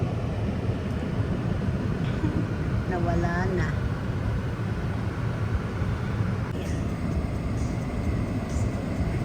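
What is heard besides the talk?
airplane flying overhead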